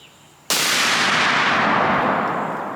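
.300 Win Mag rifle shot with a Core-Lok bullet: one very loud, close blast that starts abruptly and rings out in a long, slowly fading roar.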